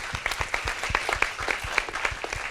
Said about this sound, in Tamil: எல்லாரும் ஒரு கைத்தட்டல் கொடுத்துடலாம்